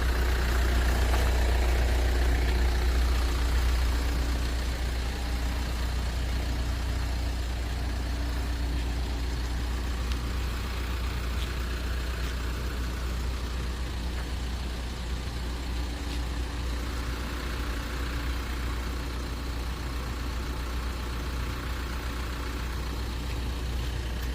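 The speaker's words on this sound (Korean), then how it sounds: "엔진 소리가 조용합니다." A 2013 Hyundai Santa Fe DM 2.2 diesel SUV with 300,000 km idles steadily with a quiet, low, even rumble that holds for the whole stretch, close by and unchanging.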